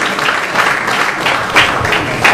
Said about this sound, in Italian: al quale facciamo un applauso e gli diamo il nostro benvenuto.